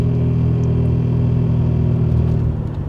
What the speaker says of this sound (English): the K-Series sounds slightly bit different in this car. It's the exhaust sound